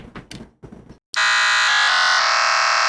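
Gravitone electronic instrument producing a loud, sustained buzzy synthetic waveform tone rich in harmonics, holding steady with slight timbre shifts after a few brief soft noises.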